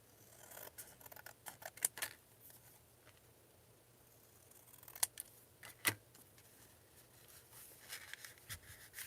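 Scissors snip around the edge of a paper card, quiet close cuts in short bursts with pauses between them, against a faint background and no talk.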